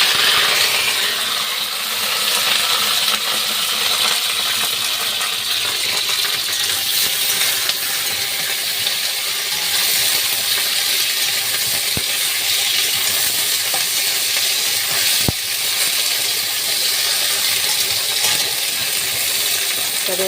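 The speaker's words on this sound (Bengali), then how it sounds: "এবার এর মধ্যে আমি ভেন্ডি আর আলুটাকে দিয়ে" Okra and potatoes fry in hot oil in a wok, a steady loud hiss of sizzling that continues without a break, with a couple of faint clicks along the way.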